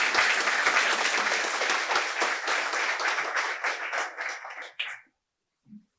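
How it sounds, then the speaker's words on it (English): An audience applauds donors to a YMCA campaign, a full round of clapping that stays strong for about five seconds and then stops abruptly, followed by a brief faint sound. "So a round of applause for all our donors"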